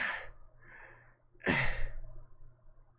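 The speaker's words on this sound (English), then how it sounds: "can I stop doing breathing sound effects?" A person voices gasping and breathing effects while playing the visual novel Fata Morgana: A Requiem for Innocence: a breathy gasp, a softer exhale, then a louder sharp gasp trailing into heavy breath, close and alone.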